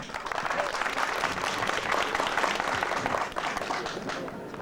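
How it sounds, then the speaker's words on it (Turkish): Crowd applause at an auction during a festival, a thick rush of many hands clapping at a fairly loud, even level, tapering slightly near the end with no talk on top. "Alkışlayalım."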